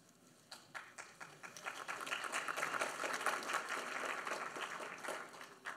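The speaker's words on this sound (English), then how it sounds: "Appreciate the applause." Audience applause greeting a speaker about to present on cameras from the 1953 British Everest expedition; dense clapping swells from scattered claps into a steady, moderately distant roar, with no talk.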